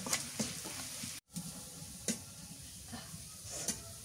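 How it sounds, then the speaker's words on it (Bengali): Onions fry in oil until reddish-brown, making a quiet, steady sizzle close by, with a few soft stirring scrapes and a brief dropout partway through. "একটু লাল লাল করে ভাজি পেঁয়াজটা"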